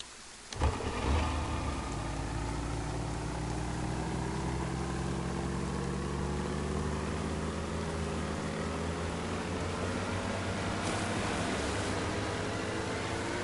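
Vehicle engine in DayZ starting with a thump and then running steadily at a loud, droning idle-to-cruise hum, close and continuous with no talk over it.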